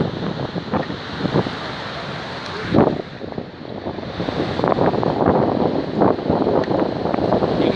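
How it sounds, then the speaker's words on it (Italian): A stormy sea surge at Voltri pounds the shore below the promenade, with heavy rolling waves and strong wind buffeting the microphone in a loud, continuous roar that swells toward the end. "Il mare praticamente è arrivato sotto la passeggiata,"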